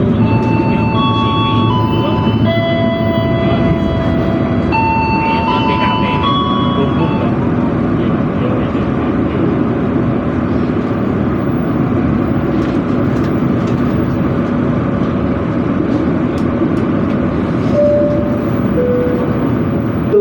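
An Indonesian passenger train runs with a steady low rumble and rolling noise throughout, while a recorded onboard announcement and brief chime tones sound over it early on.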